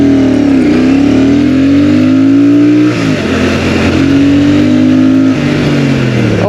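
A Royal Enfield Super Meteor 650 motorcycle revs up from idle, its engine tone rising and falling through several pulls of the throttle, loud and close throughout with no talk.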